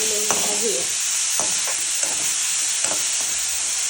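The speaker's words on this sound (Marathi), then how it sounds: "आता कांदो टोमॅटो चांगले भाजूया" Chopped onions and tomatoes sizzle steadily in a hot pan, a constant close hiss broken by several scraping stirs of a spoon.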